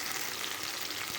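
Chopped tomato sautéing in a pan for a Chettinad-style pepper mushroom, a brief, dense, close sizzle with no voices.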